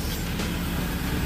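The engine of an Isuzu Q75 light truck, a canvas-covered seven-seat model, runs steadily with a close broadband rumble and no break for the whole short stretch.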